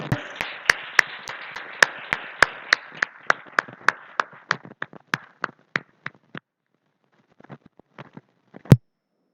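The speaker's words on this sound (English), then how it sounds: "Let's have a big clap now, students." Students clap at an award ceremony during an oratory contest final, a string of sharp, evenly spaced individual claps over a softer patter that thins out and fades, with a few scattered late claps and one loud final clap.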